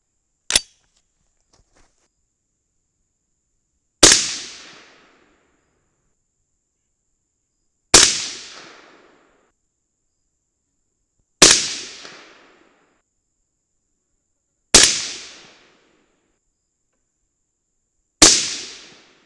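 Six sharp rifle shots fired with Hornady 55gr FMJBT bullets over 25 grains of Varget powder, spaced roughly three to four seconds apart, each a loud crack followed by a short decaying echo in open air.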